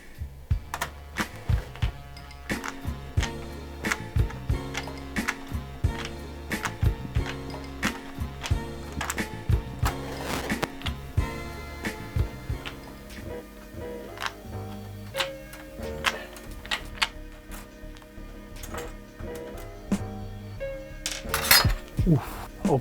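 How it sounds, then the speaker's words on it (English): Screws being removed from the panel of an MPC 2000XL sampler, a long run of small close metallic clicks, ticks and clinks in uneven rhythm, with faint background hum and occasional speech. "These screws are holding it in, so we're just gonna take that out."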